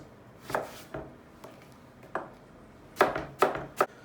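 A knife chops through eggplant on a cutting board, with about eight separate thuds falling irregularly, some spaced apart and a quicker cluster near the end, close and fairly quiet.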